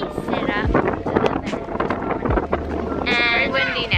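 Strong wind buffets the microphone in heavy gusts while people talk close by.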